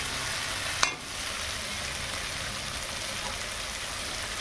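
Cooked spice paste sizzles steadily in a hot pan as water is added, a dense, even hiss throughout with one brief sharp tick near the start and no talking.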